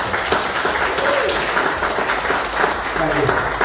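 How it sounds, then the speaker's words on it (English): Audience applause at an awards ceremony honoring an unsung hero, a continuous crowd clapping at steady volume with a few voices mixed in. "Let's give her a round of applause."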